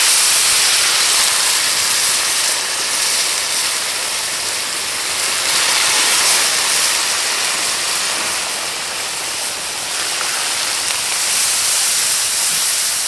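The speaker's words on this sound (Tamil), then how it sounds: "நம்ம கோழி வேக வச்ச தண்ணியே ஊற்றுறோம்." Chicken-boiled stock poured into a pan of frying masala for a chicken kari varuval, giving a steady, close rushing hiss and sizzle that holds evenly throughout with no talking.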